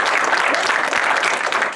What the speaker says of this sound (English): Let's clap it up for NQ.